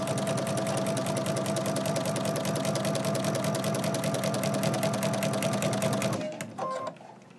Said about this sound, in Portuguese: Isso aqui nós estamos costurando na vala, né? Stitching the ditch